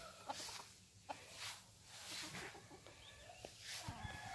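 Bantam chickens clucking softly outdoors in the morning sun, scattered short clucks and small calls at a moderate distance against quiet ambient noise.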